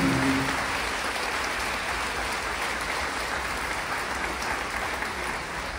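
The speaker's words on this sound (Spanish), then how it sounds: "Fuerte ese aplauso al Señor Jesús." A church congregation at a Catholic service applauds steadily, a dense, even wash of clapping that holds at full strength for several seconds.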